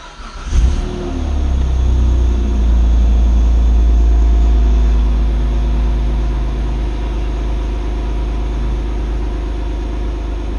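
A car engine cranks and catches, then revs up and settles into a loud, steady, rumbling run close by, with no talking.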